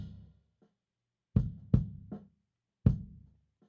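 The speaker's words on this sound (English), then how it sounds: "So with the EQ engaged, we get this." Kick drum run through EQ, a few dry, punchy thumps spaced apart with short decays and silence between hits, close and moderately quiet.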